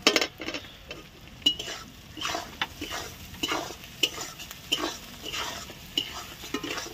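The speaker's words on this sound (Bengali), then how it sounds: "দিয়ে আমরা আবার একটু কষিয়ে নেবো" Masala for a rohu fish curry being sautéed and stirred in a pan, soft frying sizzle with repeated scraping and clinking of a spatula against the pan at an uneven pace, no talking.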